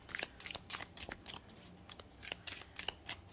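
A deck of tarot cards is shuffled by hand close up, quietly, with rapid papery riffles and flicks coming in short irregular bursts, no voices.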